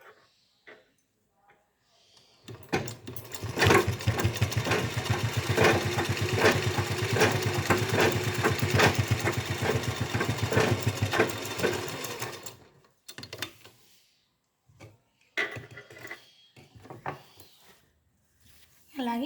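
A treadle sewing machine with a broken motor, run by hand and foot pedal, clatters in a steady rapid rhythm for about ten seconds, loud and close, with brief talk before and after.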